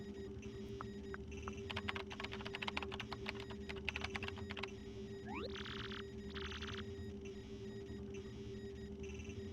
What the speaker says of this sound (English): Use this keyboard to send whatever message you want.